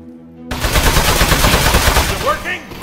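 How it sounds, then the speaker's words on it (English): Rapid, loud machine-gun style gunfire rattles continuously against a metal robot enemy in the Aperture Desk Job video game, starting abruptly after a brief quiet tone and running without pause for over two seconds. "So shoot the metal."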